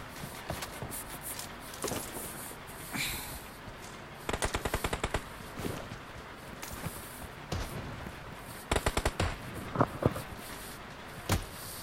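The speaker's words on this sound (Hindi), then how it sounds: "उसको दो बार क्लोज रेंज में कार 98 चिपका दी" Gunfire in a video game, including Kar98 rifle shots, comes as scattered sharp single shots mixed with two rapid automatic bursts, over a busy background of game noise.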